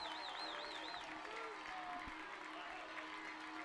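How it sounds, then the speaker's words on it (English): A high school football crowd at a Madison-Ridgeland Academy vs Pulaski Academy game makes steady, dense noise from the stands, with a whistle-like warble early on and no clear speech. "Coaches are getting the crowd on their feet and making them loud."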